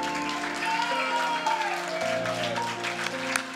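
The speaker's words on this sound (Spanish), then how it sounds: "el aplauso para Guille y para Gina" An audience at a charity golf tournament event claps while sustained musical tones carry on underneath, the applause moderately loud and blending with the music throughout.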